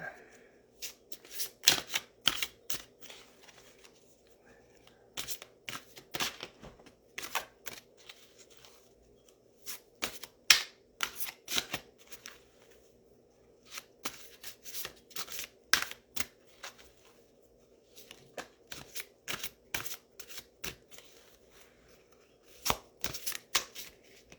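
Tarot cards shuffled repeatedly, sharp crisp riffling bursts coming in irregular clusters across a quiet background, close and fairly loud.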